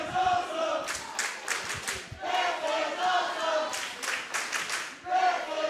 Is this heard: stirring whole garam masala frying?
no